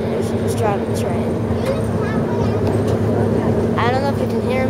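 A train's engine drones loud and steady from the cab, a constant low hum with a strong tonal line running under the whole stretch, while someone talks over it nearby.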